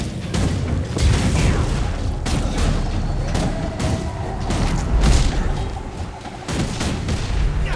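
A rocket punch attack in a video game lands with a barrage of heavy booms and crackling blasts, loud and close, repeated impacts rolling over one another for several seconds.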